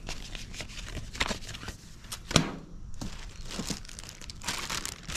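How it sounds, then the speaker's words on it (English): Close crinkling and tearing of a paper envelope holding a manual for an Ofuzzi Terrain 10 pool cleaner robot, with irregular rustling and a sharper rip near the middle. "Here's our envelope with the actual manual in it."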